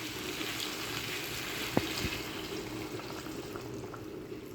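Water poured into a pot of simmering masala curry, giving a steady, fairly quiet rushing wash that runs for several seconds with one brief sharp knock partway through.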